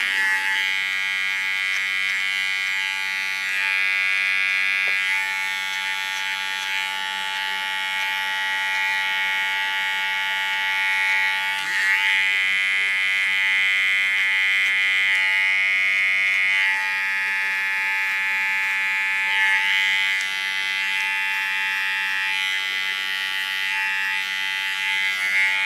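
An electric hair clipper buzzes steadily and loudly at close range while shaving lines into short hair, its whine shifting slightly in pitch as it presses against the head, running continuously for over twenty seconds.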